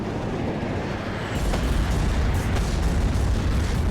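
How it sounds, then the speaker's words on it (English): Rockets exploding in WARNO, a steady rumbling barrage of heavy blasts that swells louder partway through and keeps roaring, with no voices. "there goes those rockets"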